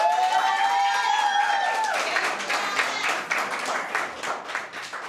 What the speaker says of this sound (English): they deserve a thunderous round of applause